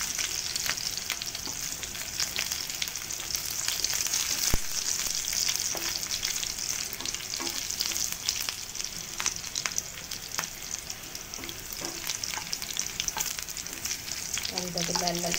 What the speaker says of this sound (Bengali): ভালো করে এটা লাল লাল করে ভেজে নেব।